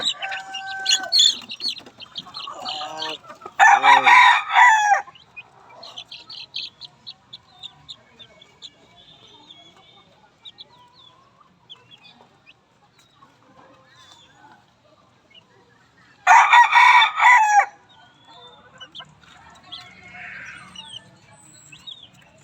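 Backyard chickens and chicks clucking and cheeping close by, with two loud squawking outbursts, while a person talks over the birds.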